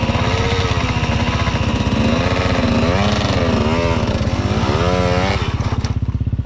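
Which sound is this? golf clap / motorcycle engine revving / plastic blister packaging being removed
motorcycle engine revving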